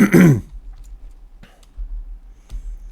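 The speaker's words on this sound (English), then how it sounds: "Keep clearing my throat." A single short throat clearing up close, followed by near silence with a few faint clicks.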